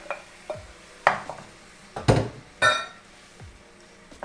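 Tomatoes and their juices going into a cooking pot for a vegan dinner, with several distinct clanks and knocks of utensil against pot, spaced irregularly over a quiet kitchen background.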